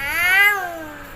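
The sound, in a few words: voice imitating a cat meowing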